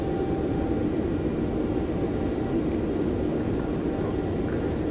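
A flight simulator airliner on a Delta virtual airline flight from Salt Lake City to Twin Falls, using the SkySong Soundworks sound set, drones with a steady low engine rumble and whine, continuous and even throughout.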